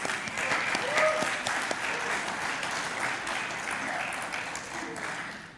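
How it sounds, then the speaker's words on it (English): Meeting attendees applaud to elect an officer by acclamation at a session, a steady, dense round of clapping from a room of people lasting throughout and tapering slightly near the end. "that means we clap."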